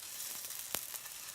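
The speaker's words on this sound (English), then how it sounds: "More latkes frying in the pan." Latkes frying in a skillet give a steady, close sizzle with brief crackling pops, one sharper pop standing out midway.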